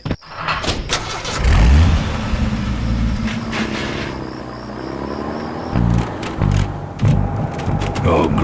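Vehicle engine in the video game Full Throttle, a loud rumbling motor that starts abruptly and runs under a noisy mix with talk and other game sounds throughout.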